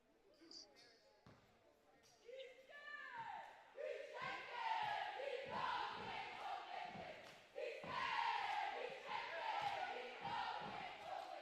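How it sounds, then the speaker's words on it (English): A JCM cheer squad cheers loudly at a high school basketball game between Full Circle Basketball Academy and James Cardinal McGuigan during free throws. The crowd noise is dense and sustained, swelling in waves, and a commentator talks over it. "Now full circle, having to shoot right in front of the JCM cheer squad. So they're hearing those cheers a little bit louder."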